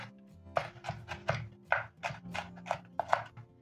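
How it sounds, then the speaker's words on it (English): Knife finely dicing an onion on a board for a Kenyan black bean dish, a steady series of crisp, close chopping taps in quick bursts with short pauses. "Finely dice the onion."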